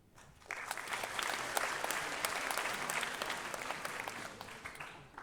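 A crowd at an arts festival closing ceremony breaks into applause, rising quickly after a quiet half-second and holding a full, even roar of clapping hands before easing slightly at the end.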